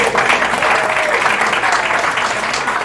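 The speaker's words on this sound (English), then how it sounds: "just another round of applause for Kim Maneater Berns" Loud, dense audience applause at an evening book event benefiting an art center, a continuous wash of many hands clapping close by and sustained without pause.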